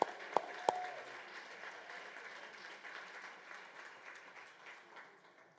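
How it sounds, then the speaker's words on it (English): Applause from an audience at a healthcare summit, a steady soft wash of clapping at moderate distance that opens with a couple of sharper claps and carries on evenly throughout. "let's give a round of applause to the Kolwa brothers."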